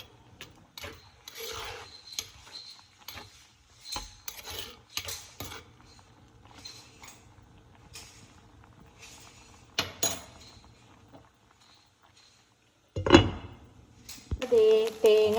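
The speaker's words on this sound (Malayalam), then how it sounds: "നല്ലോണം തിളച്ച് നമുക്കൊന്ന് ഇളക്കി കൊടുക്കാം" Bitter gourd curry stirred in a pot over the boil: intermittent scraping and clinking knocks, a few louder bursts near the end, with a steady low bubbling hum and no talk.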